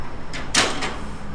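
A bird cage door on a newly unboxed cage swings open with a brief, sharp metallic clack followed by a softer rattle, close and alone.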